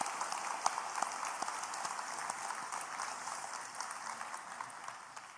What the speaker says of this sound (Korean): 우리 이 시간 감사의 박수 드리도록 하겠습니다